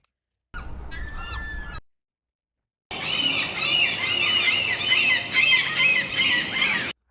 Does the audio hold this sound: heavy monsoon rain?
no